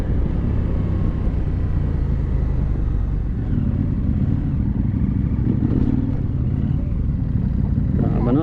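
A KTM Adventure motorcycle rides along during a 2019 Toy Run, its engine a steady, loud, continuous drone with wind rush throughout and no clear shifts in pace.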